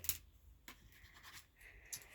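A pen that will not write scrapes over paper in a few faint, quick scratching strokes, close and quiet.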